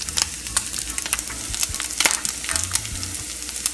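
Olive oil sizzles and crackles in a pan beside browned pork belly, a steady close frying hiss with scattered pops and a few clatters of a utensil.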